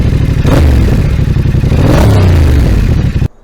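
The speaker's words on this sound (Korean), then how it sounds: "머플러 같은 경우에는 레오빈스라는 머플러가 달려 있는데" A Yamaha XSR 700 fitted with a Leo Vince exhaust revs hard and close, two sharp throttle blips rising and falling in pitch over a loud, crackly engine roar before cutting off.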